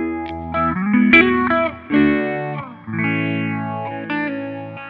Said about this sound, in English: Maybe do a different kind of sound, a clean sound, with some reverb and phaser.